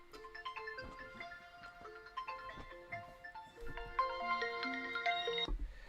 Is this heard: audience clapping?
no